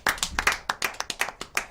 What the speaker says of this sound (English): Applause for our guest.